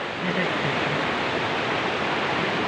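Strong, rushing water flows loudly and constantly, a dense roaring wash like a waterfall or fast stream near a swimming spot, filling the whole moment without any clear speech over it.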